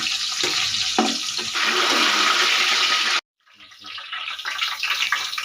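A large onion sizzles in hot oil in a pot for jungli pulao, a loud, close, steady frying hiss that drops out for a moment, then resumes.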